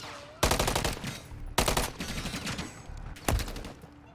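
Gunfire in the video game Call of Duty MW3 multiplayer, three loud bursts of rapid automatic fire separated by quieter game ambience, close and punchy.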